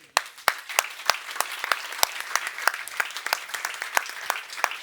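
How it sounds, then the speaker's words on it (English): An audience at the Danube Salon, Europa-Forum Wachau, applauds translator Diana Yeftimova, a moderate crowd clapping with distinct individual claps standing out over a steady patter at mid distance. "we need to give a big round of applause to Diana Yeftimova for the"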